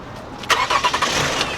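A car's starter cranks in a quick stuttering rhythm after a fresh battery is fitted, several close, rapid turns that don't quite catch, heard alone and loud.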